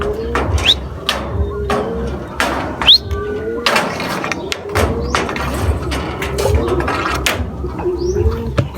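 Racing pigeons coo and flutter nearby as they arrive at their loft after a derby race, with sharp wing claps and thumps as birds land, over a low outdoor rumble.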